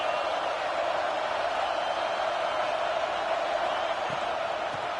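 A packed stadium crowd in a college football video game roars as one, a dense, even wall of cheering that holds steady throughout.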